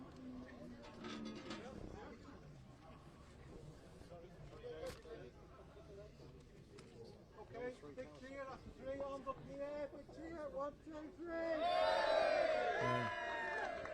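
A crowd at the Manx Grand Prix Junior Race podium on the Isle of Man, with scattered talk and murmur building into a loud, sustained cheer and whoops near the end.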